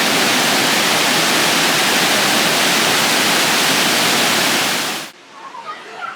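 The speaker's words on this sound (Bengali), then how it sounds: "এখান থেকে জলটা গড়িয়ে পড়ছে নিচের দিকে।" Water from the third and final waterfall in Meghalaya pours down in a loud, steady broadband roar that fills the scene, then cuts off abruptly near the end, leaving faint quieter ambience.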